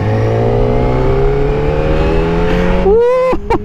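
A Kawasaki Ninja ZX-4RR sport motorcycle accelerates hard, its high-pitched engine climbing through the revs in a smooth, loud whine, then a quick gear change and another rising pull, heard close up from the rider's position with no talk.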